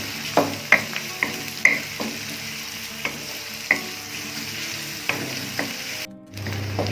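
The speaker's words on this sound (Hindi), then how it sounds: "फ्राई करना है प्याज को अच्छी तरह।" Chopped onions frying in oil in a kadhai, a constant crackling sizzle punctuated by sharp spoon clinks and stirring scrapes, close and moderately loud, briefly cutting out near the end.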